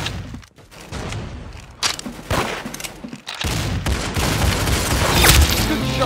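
Gunfire in a video game, repeated sharp shots and bursts with booming impacts, loud and close over a busy battle din.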